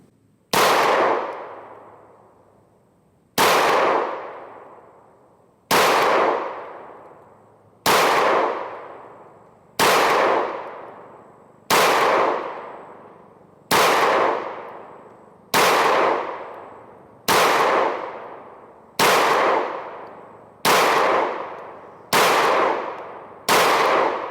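A Springfield Hellcat Pro Comp pistol fired slowly at a steel target outdoors: a dozen loud sharp reports spaced about two seconds apart, each followed by a ringing metallic clang that decays before the next shot.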